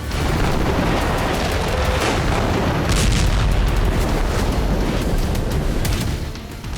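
Heavy artillery shelling in Gaza, a continuous loud rumble of booming explosions with repeated deep impacts and bursts layered over one another for the whole stretch, with no talk.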